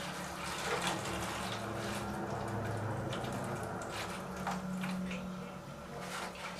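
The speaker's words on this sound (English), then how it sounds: "And then you just add water to the bottom." Water poured into the bottom of a container holding cucumber plants, a steady continuous splashing and trickling pour that runs close by for several seconds without pause.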